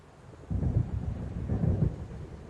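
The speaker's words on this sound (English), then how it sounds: "It seems there's a storm coming." Deep rolling thunder from an approaching storm in the video game Alan Wake, rising after a quiet start into two long low rumbles that swell and fade, with no voices.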